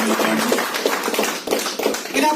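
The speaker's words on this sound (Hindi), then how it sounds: "इसके साथ ही साथ यह जोरदार ताली" Loud applause of many hands clapping fills the space in a dense, continuous patter.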